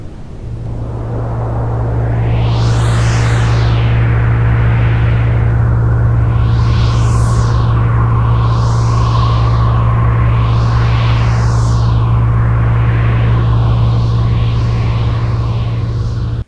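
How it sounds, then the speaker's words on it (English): Sonified sound of the planet Uranus together with five of its moons: a deep steady drone with a low hum underneath, overlaid by repeated sweeping, whooshing tonal arcs, loud and sustained throughout. "Let's play Uranus together with 5 of its moons, and it should probably sound like this."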